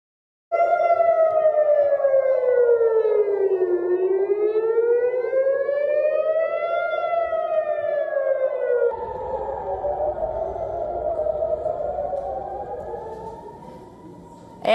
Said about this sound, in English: Air raids, sirens and explosions were heard over Jerusalem, Tel Aviv and central Israel on Monday